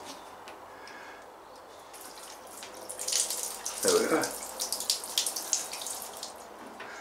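A water tap in a greenhouse is turned on, and after a short spoken remark the water gushes out and keeps running and splashing steadily at close range.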